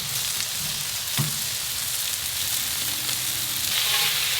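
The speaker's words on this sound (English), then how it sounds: "You're gonna see a nice sizzle there." Lamb shoulder chops sizzle loudly in a hot pan, a dense steady crackle with occasional pops and scrapes, and no talking.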